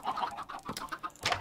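Chickens in a Minecraft game cluck in a quick series of short, bright game-sound calls, close and clear, with no talking over them.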